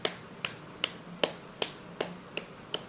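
Rhythmic hand clapping at an even steady pace, eight sharp crisp claps spaced about 0.4 seconds apart, close and clear against a quiet room.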